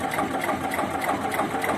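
An Eicher 241 tractor engine runs slowly, with a steady, rapid mechanical clatter close by that goes on without a break and has no talking over it.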